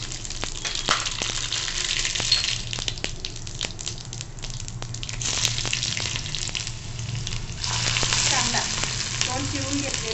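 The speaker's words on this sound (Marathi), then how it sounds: "आता आपण फोडणे करू आपलं तेल तापलेलं आहे आता आपण जिरं मोहरी" Cumin and mustard seeds crackle and sizzle in hot oil for tempering, a continuous close frying hiss dotted with sharp pops, swelling briefly louder near the end.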